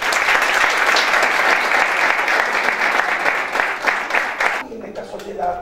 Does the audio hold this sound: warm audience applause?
yes